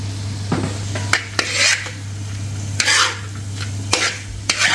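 Chicken stirred through a tomato-onion gravy with fresh chopped coriander: repeated scraping strokes of a spoon against the pan over a steady low sizzle, with sharp metallic clinks every second or so, close and fairly loud, no talk.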